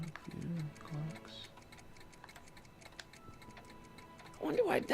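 Clocks tick in a steady rapid rhythm inside Doc's lab in Back to the Future: The Game, faint and continuous, with a voice speaking over them at the start and end.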